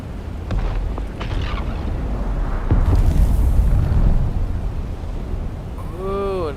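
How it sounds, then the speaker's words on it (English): A deep, rumbling explosion booms in the desert survival game Dune Awakening, a loud low-heavy blast swelling midway through a sustained roar, with a short rising in-game tone near the end. "Ooh, another explosion right there next to us."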